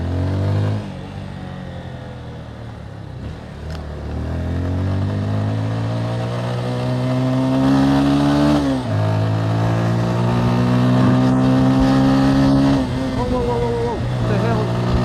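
A motorcycle ridden at night on a wet road, its engine droning and rising in pitch through repeated acceleration sweeps with gear changes, loud and close, with tyre hiss underneath.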